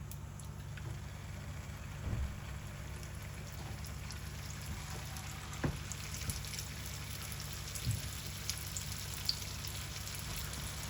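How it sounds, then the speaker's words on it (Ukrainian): Potato and meat pies frying in hot oil give a steady, even crackling sizzle with a few soft pops, close and moderately loud, running throughout with no talk while rain falls outside. "Зараз насмажу пиріжечків."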